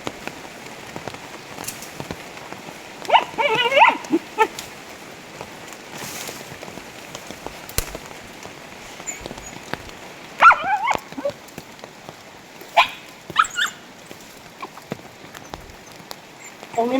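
A dog barks in a forest in several short bursts spread across the clip, fairly close, over a soft steady patter like light rain on leaves.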